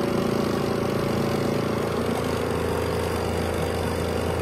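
A Pyle portable washing machine's spin dryer runs in an apartment, giving a steady, loud motor hum with a low drone and constant whir that holds unchanged throughout, with no talking.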